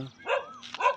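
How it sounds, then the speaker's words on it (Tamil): Dogs barking on a road in the morning, two short yelping barks a moment apart, moderately close against a quiet background. "கூட்டமாக இருக்குங்க நாய்கள்லாம்."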